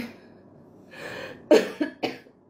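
Three sharp coughs in a row, close and loud, preceded by a short breathy throat sound.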